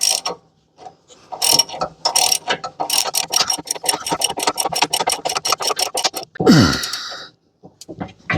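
A hand ratchet clicks in quick repeated bursts while a bolt is tightened on the deck of a Bad Boy zero-turn mower, with brief pauses and a short squeaking clatter near the end.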